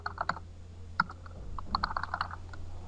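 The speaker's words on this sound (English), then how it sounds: "I'm going to type in the name," A name being typed on a computer keyboard: faint, close key clicks in short irregular clusters over a low background hum.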